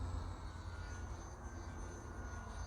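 Twisted Hobbys RC Factory MXS-C model airplane throttling up, a steady distant electric motor whine over a low rumble of wind, fairly faint, with no voices.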